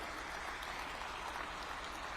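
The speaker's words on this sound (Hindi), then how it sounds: "एक बार बच्चियों के लिए जोर से ताली बजाइए जरा।" A crowd at an appointment-letter ceremony for police constables claps for the new women constables: a faint, distant, continuous wash of applause with no distinct voices.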